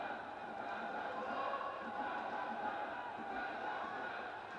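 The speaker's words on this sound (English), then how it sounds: "We can hear some chants coming through now, trying to lift their ladies." Kazakhstan supporters at a women's rugby sevens match in the Asia Rugby Emirates Sevens Series, a faint, distant crowd chant rolling steadily under the stadium ambience.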